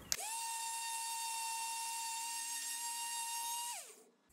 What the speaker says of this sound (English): it's time to fire up the sander